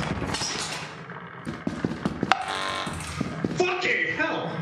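A turret fires in Lethal Company: rapid bursts of sharp, cracking shots hit in quick clusters, some loud and close, amid players' overlapping speech.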